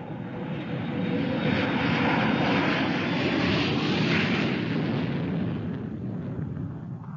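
Propeller airplane drone in a radio drama, a steady broad roar that swells in the first second, holds loud and full, then eases slightly toward the end, with no voices.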